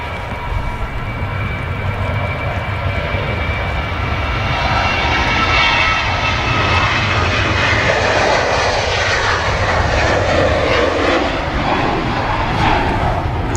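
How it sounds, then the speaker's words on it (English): A TUI Boeing 737-800 climbing out of Manchester Airport, its jet engines producing a loud, sustained roar that holds steady throughout with a faint rising whine, no voices present. "TUI 737-800 series aircraft climbing out of Manchester there"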